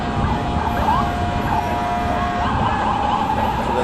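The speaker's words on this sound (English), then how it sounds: "So that's an ambulance." An ambulance siren wails at a street crash scene at Coney Island, where a tow truck lifts an NYPD police van; the rising and falling tone sounds steadily over loud, dense traffic and crowd noise.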